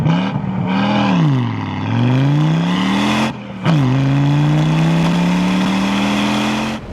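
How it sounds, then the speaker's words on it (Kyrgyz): Audi S6 turbocharged engine revving hard through its exhaust, a loud close roar that rises and falls in pitch, cuts out briefly, then climbs again in a long steady pull. "Выхлоптун үнүн азыр силерге угузуп кетели."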